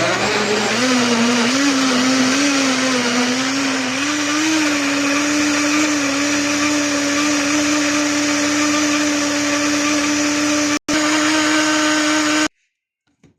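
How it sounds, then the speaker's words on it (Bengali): An electric blender runs continuously for about twelve seconds, blending juice with added water in a loud, steady whirring drone with a stable motor pitch, then cuts off abruptly. "এই যে দেখেন আমাদের ব্লেন্ডার মেশিনের তৈরি জুস"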